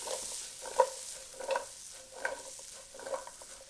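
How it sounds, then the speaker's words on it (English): Potatoes sauté in bacon grease in a pan for a breakfast burrito, giving a steady, bright sizzle throughout, broken by several soft scraping stirs and tosses at a regular pace, close by with no talk. "So as these are sauteing in the background here"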